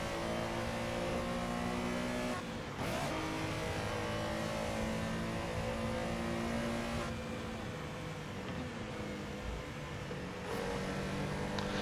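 A race car in a racing video game, pushed hard along the track edge in fourth gear, roars loudly and steadily throughout, its engine pitch rising and falling with brief shifts and revs.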